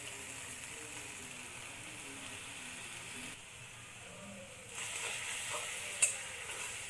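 Spice paste with a little water is stirred in a pan for a cauliflower roast, a quiet sizzle and soft scraping that drops briefly, then returns louder with a small clink.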